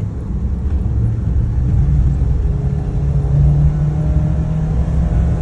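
A Mitsubishi Pajero Mini engine drones steadily while driving, a close, loud low rumble with a slight rise as it pulls through the gears.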